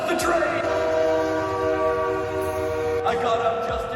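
A train approaches a level crossing with its horn blaring in a long, loud tonal blast over a rumbling engine, with a second horn burst near the end.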